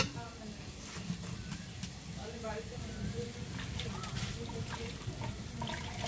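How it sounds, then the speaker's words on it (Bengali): Spice paste frying in a pan while cooking pumpkin greens, a steady close sizzle with scattered crackles and pops that runs throughout the clip, partly mixed with faint background voices. "এখন আমি মশলাটিকে ভালো মতো কষিয়ে নেব।"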